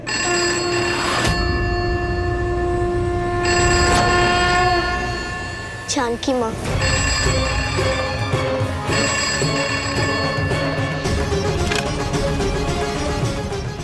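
A telephone rings in repeated bursts over a steady rumbling background, and a voice speaks briefly partway through.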